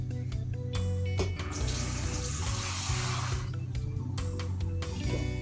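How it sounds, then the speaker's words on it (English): Steady running water pours into a pot of Nigerian party jollof rice, a continuous splashing hiss with a few clinks from the pot. "I'll add more water to it"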